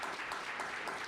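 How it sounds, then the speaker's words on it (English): Applause from an audience at a panel event, a short burst of steady clapping from many hands filling the moment, close and even in level. "You can give them a round of applause for coming."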